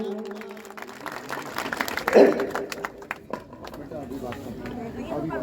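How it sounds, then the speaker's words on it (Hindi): Scattered applause from a crowd at a bhajan competition prize-giving rises briefly mid-clip, with someone speaking over it throughout. "ताली बजाएं आप लोग"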